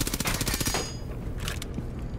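Rapid automatic gunfire in Rainbow Six Siege rattles out in a dense, close burst, then trails off into a few scattered, fading shots.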